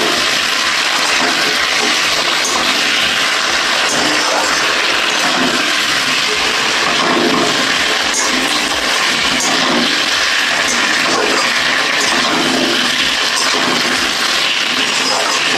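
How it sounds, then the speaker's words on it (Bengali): Potatoes sauté with spices in a hot pan in a home kitchen. A loud, unbroken sizzling hiss runs steadily for the whole stretch, close up, with no talking. "আলুগুলো মশলার সঙ্গে কষিয়ে নেব।"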